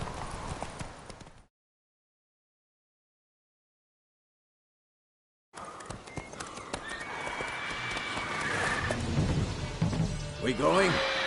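A horse's hooves clip-clop at a gallop in The Witcher 3 Complete Edition on PS4, with a whinny. The hoofbeats stop for a few seconds of silence, then return louder alongside voices and other game sounds.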